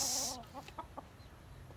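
A chicken gives a few short, throaty clucks in quick succession, close by, after a brief bright squawk at the start.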